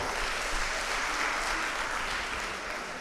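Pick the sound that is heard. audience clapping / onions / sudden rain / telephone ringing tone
audience clapping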